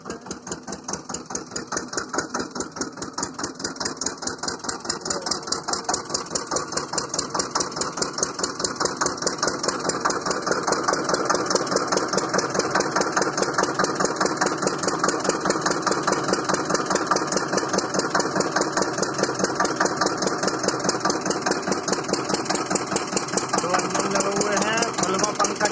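Two engines drive the draught fan of a zig-zag brick kiln, a steady close mechanical drone with a rapid regular chugging pulse that runs loud and unbroken throughout.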